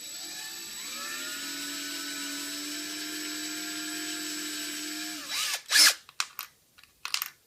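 An Xbox One chrome controller shell being drilled: a power drill whines steadily for about five seconds, then stops, followed by several short bursts of drilling and scraping at the plastic.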